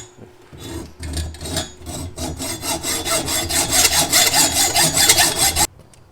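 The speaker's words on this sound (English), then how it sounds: "I'm just going to use a hacksaw" A hacksaw cuts through tough metal on a canoe, sounding as fast, rhythmic rasping strokes that build in loudness and stop abruptly near the end, with no talk.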